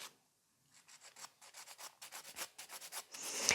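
A nail file rasps gently across a damaged fingernail, a series of quick, soft, evenly spaced strokes, close and quiet, building slightly in pace toward the end.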